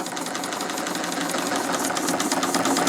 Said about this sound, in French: Alors là, le moteur, il bosse, hein.